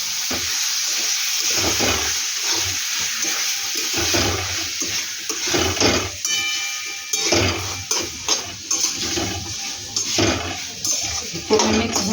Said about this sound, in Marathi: आपण आता ही फोडणी फ्राय झालेली आपण टाकून घेऊया